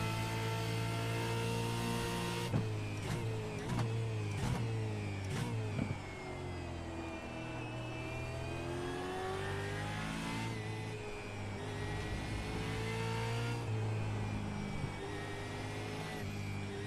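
Gen 3 Supercar engine in the iRacing sim on the Indianapolis road course, loud and close, revving through rising pitch sweeps with sharp gearshift breaks and repeated accelerations, no talking.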